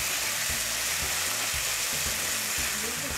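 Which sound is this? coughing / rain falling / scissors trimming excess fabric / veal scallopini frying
veal scallopini frying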